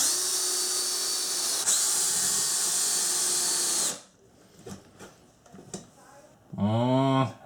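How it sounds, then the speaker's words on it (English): Power drill driving screws and fasteners into wooden cabinet pieces inside a vintage Shasta camper trailer under restoration, a steady loud whir for several seconds followed by short bursts and taps, then a brief spoken phrase. "I'm going to put this stick back here and fasten it all together with nails"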